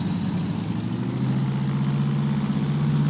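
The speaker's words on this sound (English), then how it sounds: "We're going to run up our Pratt Whitney R2859 twin roll radial engine" A Pratt & Whitney R-2800 twin-row radial engine on a simulated P-47 Thunderbolt in Flight Simulator X, running at a steady loud drone with a deep throbbing pulse and no voices over it.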